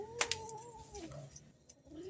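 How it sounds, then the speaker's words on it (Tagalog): Young kittens squabble over sapsap fish, letting out thin, rising squeals and cries over a busy background with a couple of sharp clicks, close and lively. "Mga kuting pa yan, nag-aagawan sila."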